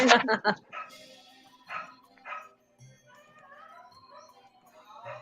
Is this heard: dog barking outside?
yes